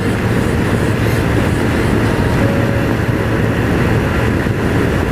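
Zipp Veracruz 125 scooter climbing a steep hill with throttle held at about three quarters, a loud, steady engine drone mixed with heavy wind rumble throughout.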